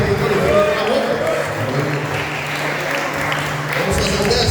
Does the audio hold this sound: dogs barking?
no